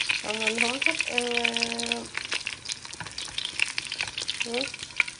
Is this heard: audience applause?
no